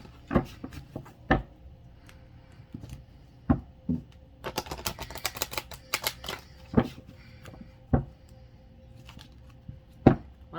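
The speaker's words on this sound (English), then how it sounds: "I'm trying to wake these cards back up." A deck of tarot cards is shuffled by hand: sharp, separate taps and snaps at irregular intervals, with a quick riffling burst partway through, close and clear against a quiet room.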